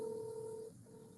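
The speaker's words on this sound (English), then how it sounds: "I have a phone call coming somehow." An incoming phone call sounds as a steady, faint electronic tone that holds for most of a second and then drops to a quieter continuing tone, with no voices.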